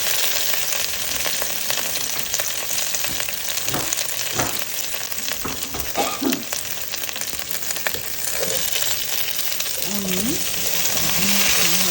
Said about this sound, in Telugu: ఆనియన్ కొంచెం ట్రాన్స్పరెంట్ అయ్యే వరకు ఇందులో కలుపుకున్నాము